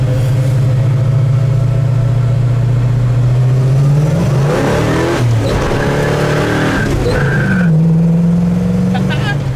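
A 1964 Chevelle restomod's engine roars loudly as it accelerates and shifts up through first, second and third, with tires squealing and skidding; a voice is heard briefly over the noise.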